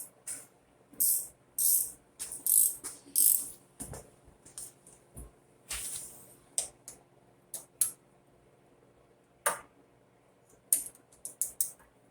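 A wrench clicking and creaking as it removes the carburetor bowl on a Coleman BT200X mini bike, with a series of close, sharp ratchet ticks and small metallic knocks separated by pauses.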